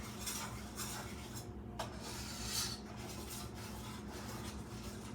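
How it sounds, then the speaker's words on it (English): A spoon stirs peach cobbler filling with sugar in a pot, giving soft scraping and rubbing strokes with a few light clinks, quiet and close, with a faint background hum. "And you have to keep stirring, because if you don't stir, it will stick"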